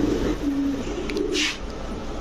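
A checker pied blue-eyed pigeon and others coo softly in a low murmuring tone amid steady background noise, with a short hissy burst partway through.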